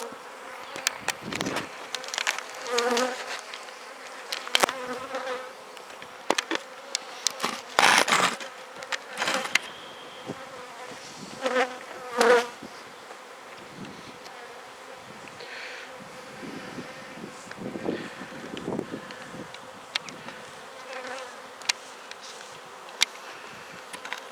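Honey bees buzz around beehives in an apiary, a close, busy drone with individual insects swelling loudly past the microphone and fading, plus occasional soft handling clicks.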